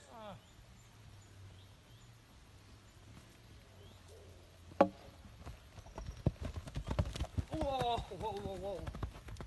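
A young horse's hooves clip-clop during a loose training session, starting faint and building to a quicker, louder run of footfalls, with birds calling in the background.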